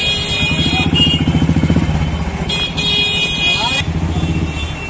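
Busy street traffic in Bhagalpur near the main post office, with motorcycle and car engines rumbling close by, a throbbing engine pulse and sustained horn tones layered over constant road noise, with people talking faintly underneath.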